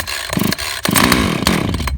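A Husqvarna 450 Rancher chainsaw cranks over with choke set, its small two-stroke engine sputtering in short bursts before catching into a loud, steady, close running buzz.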